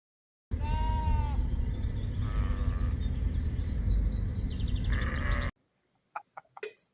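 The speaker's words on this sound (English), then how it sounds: "So it's the damn sheep." Sheep bleat loudly and close for about five seconds, several wavering, overlapping cries in a continuous stretch. The sound then cuts off abruptly, leaving a few faint, short sounds near the end.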